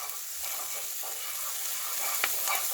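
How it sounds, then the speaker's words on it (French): Onions and shallots sweat in a pan with butter while being stirred, a steady soft sizzle with light scraping strokes and one sharper clink near the end. "On va continuer à mélanger tout ça. En fait, on fait suer les oignons et les échalotes."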